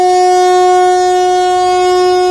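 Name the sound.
train horns sounding in mourning at Qidu station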